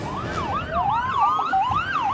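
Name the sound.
ambulance and police car sirens at prison riot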